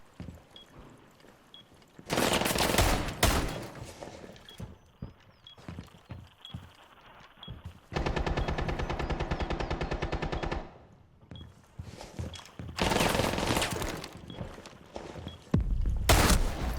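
Gunfire in Rainbow Six Siege: several loud close bursts separated by quieter movement and footsteps, including one long rapid rattling string of shots in the middle and a final heavy blast.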